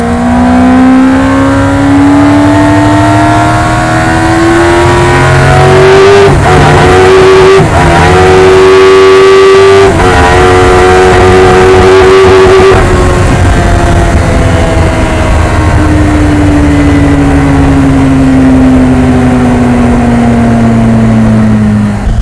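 A Yamaha R1 motorcycle-engined RX5-MC car revs hard and close, its high-pitched screaming engine note climbing steadily, dipping briefly at gear changes, then holding high before winding slowly back down, loud and alone throughout.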